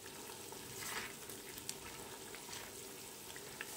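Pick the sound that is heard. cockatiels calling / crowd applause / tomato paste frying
tomato paste frying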